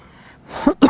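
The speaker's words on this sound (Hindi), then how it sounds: "खांसी है मेरे को, अभी भी कफ गई नहीं है मेरी।" A man coughs and clears his throat twice in quick succession at close range, a short rough burst followed by a second louder one, while suffering from a lingering two-month cough with phlegm.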